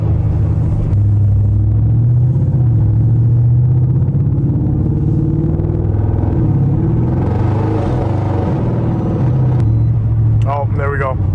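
An 800hp straight-piped Audi RS7 rumbles loud and deep as the engine revs while struggling for traction, a sustained heavy drone that swells and drops, with people talking over it.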